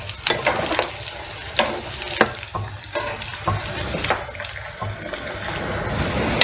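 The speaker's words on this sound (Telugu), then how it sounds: "వంకాయలు అన్నీ వేసేసుకున్నాక హై ఫ్లేమ్లో పెట్టుకొని మెల్లమెల్లగా కలుపుకుంటూ ఉండాలి" Eggplant pieces frying over high flame while being stirred slowly: close, steady sizzle broken by repeated scraping and clinking of a spoon against the pan, with no speech.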